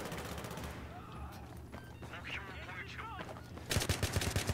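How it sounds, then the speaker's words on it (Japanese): KH2002 submachine gun fire in Battlefield 3 Rush mode: rapid automatic bursts open the clip, voices take over in the middle, then a louder, close burst of fire closes it out. "KH2002 サブマシンガンやけ、そんなに殺傷力ない。 今7発受けてる。"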